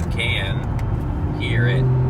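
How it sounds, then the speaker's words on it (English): Hyundai Genesis Coupe exhaust giving a faint, low, steady drone in the background beneath someone talking over it. "There's just a light tone of the exhaust in the background."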